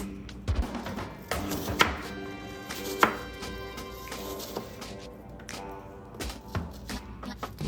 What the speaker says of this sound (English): Chop it into little small pieces